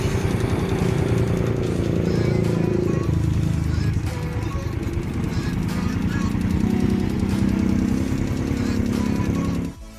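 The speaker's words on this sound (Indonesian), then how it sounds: "suaranya mesinnya halus." A motorcycle engine idles steadily after a carburetor service, a smooth, continuous low rumble held close and loud for nearly the whole stretch before cutting off at the end.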